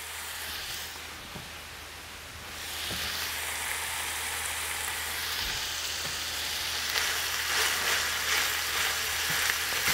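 Pork browning in a hot pan with peppers and carrots, a steady, loud hiss of frying that rises as the vegetables go in, with a few clatters of stirring.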